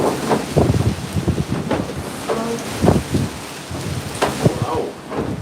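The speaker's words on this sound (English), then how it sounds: "The rain getting really strong." Heavy Hurricane Melissa rain and gusting wind in Spanish Town, Jamaica, a dense continuous roar with buffeting on the microphone, while someone talks over it.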